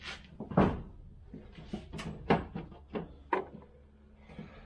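Clunks, knocks and latch clicks come from a 1971 Range Rover tailgate being opened, a series of close, irregular mechanical thuds of moderate loudness with no talking.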